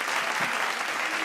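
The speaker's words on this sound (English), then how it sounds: "Big round of applause." A podcast audience applauds as a guest is brought on, a brief burst of dense, steady clapping at close range with no pause.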